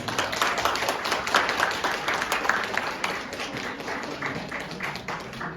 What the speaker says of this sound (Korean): 신랑 신부를 축복하는 마음을 담아 큰 박수를 보내주시면 감사하겠습니다